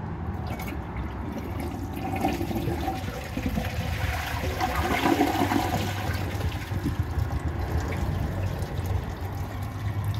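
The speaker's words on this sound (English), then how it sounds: "let's see if it can take it on a second flush" A 2011 Kohler Rialto Ingenium toilet flushing a second time, with a steady rushing swirl of water that stays loud and close for about ten seconds, no talking over it.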